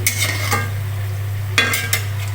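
Mughlai paratha sizzles steadily in oil over a low mains hum while a utensil scrapes and clinks against the pan a few times.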